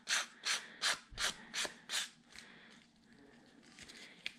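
An old sand block is rubbed against a paper card to distress its edges, giving six rhythmic, fairly close rasping strokes, then softer scattered scraping as the motion trails off.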